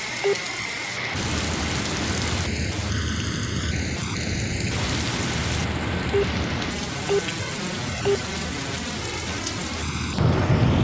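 Steady rain falls in a Bollywood romance scene, a dense broadband hiss that runs the whole time with a few brief louder spatters and some faint tonal sounds layered in, no talking.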